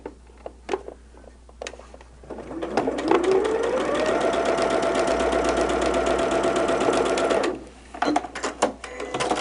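A sewing machine stitches a quilt block, starting with scattered clicks and then running in one steady, rising whir for about five seconds before stopping into more small clicks and handling sounds.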